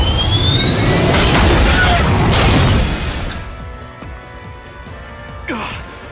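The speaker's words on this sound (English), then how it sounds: "A fire attack!" A fire attack explodes in Fire Emblem Three Houses as a loud, booming blast with crackling debris. It fades after about three seconds into a quieter rumble, with a brief whoosh near the end.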